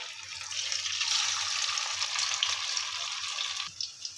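Steady, loud hiss and crackle of meat fritters frying in hot oil, continuous throughout with a faint low hum underneath.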